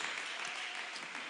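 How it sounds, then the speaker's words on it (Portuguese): A church congregation claps for Jesus during a Sunday morning service, a brief, even burst of many hands heard alone at a modest level. "Dê uma salva de palmas para Jesus, que Ele merece."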